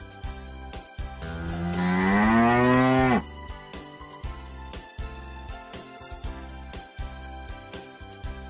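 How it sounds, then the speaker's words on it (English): A cow gives one long, loud, rising-then-falling moo lasting about two seconds, set against a steady backdrop of rhythmic music. "Cow."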